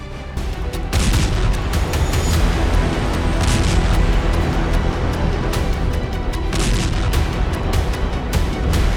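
Continuous heavy rumbling booms and blasts with sharp cracks throughout, dense and loud, a sustained barrage of air strike explosions in Syria.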